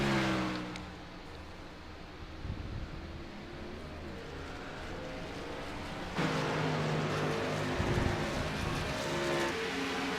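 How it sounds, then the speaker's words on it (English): In-car audio of a race car engine on a dirt-track racing league circuit, a steady droning, faint engine note that swells louder and revs harder partway through, heard alone. "There's some in-car audio here."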